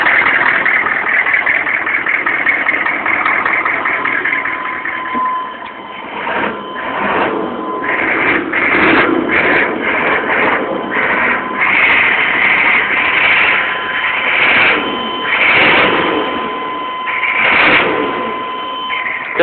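A 1995 6.5 diesel engine with turbo and timing problems running steadily, a broadband mechanical clatter that surges and fades irregularly, close and loud, with a voice talking over it at times.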